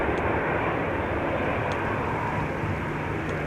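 An airplane landing on Schiphol's Buitenveldertbaan runway 27 gives a loud, continuous engine roar at close range, steady across the short stretch with no talk over it.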